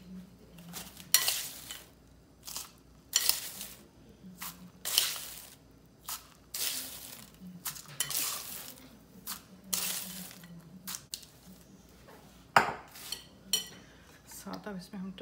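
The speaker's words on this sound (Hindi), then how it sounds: "अब इसमें जाएगी आइस।" Ice goes into strawberry bubble tea with milk, making several separate clinks and rattles of cubes against a glass, spaced apart, with soft kitchen clatter and a voice talking at times.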